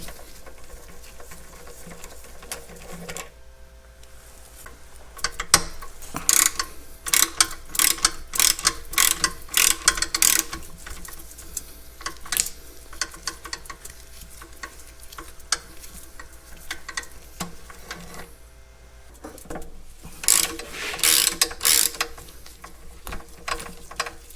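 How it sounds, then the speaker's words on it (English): Bolts are loosened and taken out of the transmission forks on a Caterpillar D2 crawler tractor. Wrenches ratchet in intermittent bursts of quick metallic clicks, moderately close, separated by quieter stretches with no talk. "Now we can loosen these bolts, take them right out of the forks"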